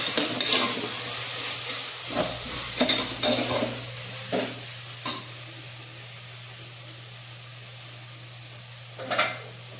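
Onions with ginger paste are stirred in a frying pan, a spoon scraping and clinking against the pan in scattered strokes over a faint background hum, with quiet gaps between strokes.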